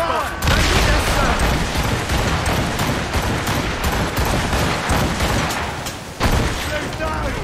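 An enemy ship in Assassin's Creed Rogue fires a volley, a dense, loud barrage of booming cannon shots rolling on nearly without pause, with another burst near the end and shouting voices mixed in.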